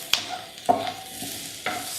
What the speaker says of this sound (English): A few quick stirs like that